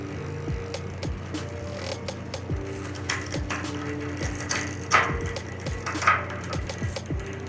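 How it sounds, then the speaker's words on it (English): A bicycle converted from single speed to geared strains to shift, its derailleur struggling to move the chain. Close, rapid ratcheting clicks run throughout, broken by a couple of louder clunks. "if you hear that noise, right, that it's struggling to get to this gear"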